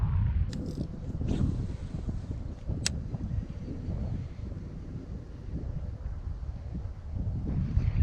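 Steady wind buffets the microphone on a fishing boat out on open water, a continuous low rumble with faint splashes and creaks throughout, no talking.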